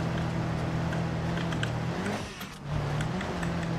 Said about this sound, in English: I heard a turbo sound. Yes, it has a turbo.